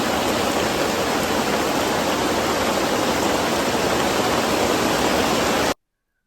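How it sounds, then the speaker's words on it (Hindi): Heavy rain pours down in a village as a dense, loud, unbroken hiss, then cuts off abruptly to silence near the end. "बारिश बहुत जोर से हो रही है"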